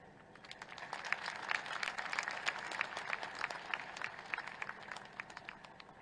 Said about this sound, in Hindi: बहुत जोरदार तालियों से एक बार पुनः आपका अभिवादन करते हैं